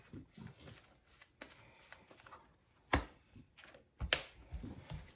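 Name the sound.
shuffling Cardfight Vanguard cards into deck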